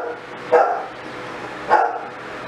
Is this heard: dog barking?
yes